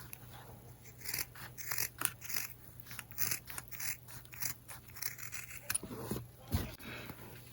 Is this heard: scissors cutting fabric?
yes